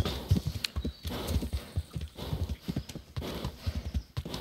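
A horse in the medieval role-playing game Kingdom Come: Deliverance clip-clops along at a steady walking rhythm, hooves close and clear with faint ambient background.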